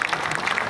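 A crowd at a Hindi poetry gathering (kavi sammelan) in Sujangarh claps for a satirical poet, a brief, dense burst of many hands clapping together, loud and continuous.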